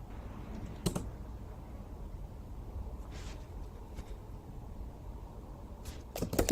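Keys tapped on a computer keyboard in quiet, uneven bursts, a couple of sharper clacks standing out, soft and steady over light room hum with no voices.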